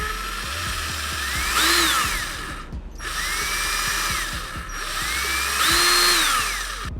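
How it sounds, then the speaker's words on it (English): Power drill boring holes in a motorcycle tank fairing, three whining bursts that rise in pitch as the motor spins up and fall away between them, close and loud with a steady background drone. "So we're gonna drill these holes in."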